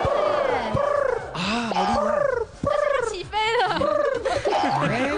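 A man imitates a pigeon's cooing with his voice, making a run of throaty, gargling coos and warbles, close and fairly loud, with brief pauses between phrases.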